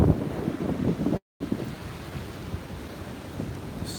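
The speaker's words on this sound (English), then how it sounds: "hoping you can hear this, with all the waves" Ocean waves wash onto a beach in a steady, rough roar, heavily mixed with wind buffeting the microphone, broken by a brief dropout of silence.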